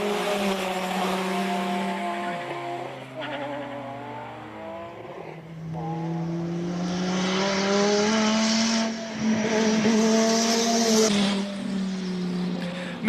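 A naturally aspirated six-cylinder BMW E36 race car passes, its engine droning and revving with smooth pitch shifts through gear changes, building louder and brighter as it approaches.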